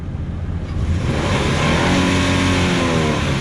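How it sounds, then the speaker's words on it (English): Car engine revving hard at a drag strip on a wet day, a loud sustained roar with rising harmonics and a fluttering, stuttering edge, close and alone without talk. "Can we get some rev limiter?"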